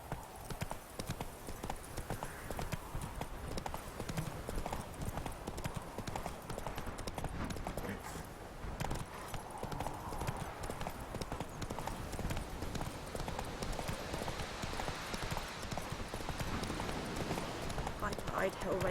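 Roach, a horse in The Witcher 3 video game, trots with steady, continuous hoof clip-clops close by for the whole stretch, with spoken voices over the hoofbeats.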